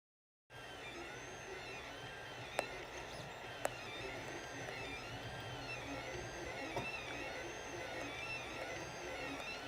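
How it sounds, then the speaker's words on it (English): 3D printer printing a fidget spinner, a quiet, steady mechanical whirr with repeating rising and falling motor tones and a couple of sharp clicks, heard alone with no talking. "Hopefully you guys can hear the printer."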